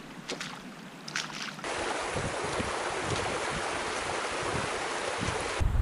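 A mountain stream in the Cirque de Gavarnie rushes steadily over rocks, a loud, close, continuous broadband wash of flowing water with no voices.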